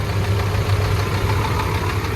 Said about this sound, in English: The engine's still running, so it will be noisy.